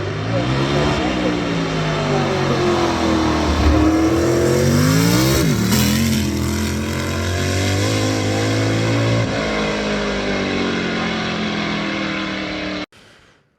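Race car engines at Goodwood roar loudly and continuously, pitch rising and falling as they rev and pass, with a sudden cutoff near the end.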